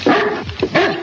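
A fierce dog barks two or three times in quick succession, close and loud, with sharp strained yelps.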